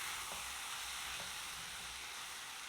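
Sweet spiced coconut gojiya filling sizzles in a pan, a steady close hiss with faint soft scraping as it is stirred, and no voices.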